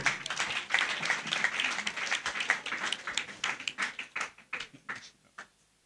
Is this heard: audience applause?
yes